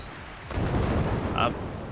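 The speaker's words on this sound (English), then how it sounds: "He's gonna hit himself with the swarm missile." A swarm missile explodes in the Forts real-time strategy game, a broad rumbling blast that swells midway and holds loud for about a second and a half, with a brief bright crackle near the end.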